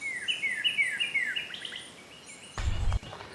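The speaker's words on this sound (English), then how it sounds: "we got a ton of birds here and loads and loads of yellow warblers" Many birds sing outdoors, including yellow warblers, with a series of bright repeated chirping phrases up close, followed by a brief low rumble of handling noise.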